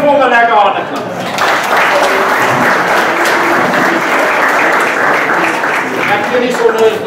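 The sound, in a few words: crowd applauding, clapping hands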